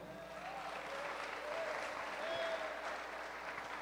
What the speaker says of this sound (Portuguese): Um aplauso para Ana Maria